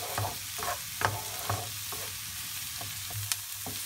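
Onions fry in a pan and are stirred, a soft continuous sizzle with repeated scraping strokes of the spoon at an even pace, close and quiet with no talk.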